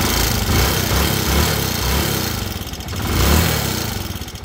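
A 200cc converted motorcycle engine runs close by, its loud, rough, steady idle chugging with uneven low pulses and a brief surge near the end, with no talking.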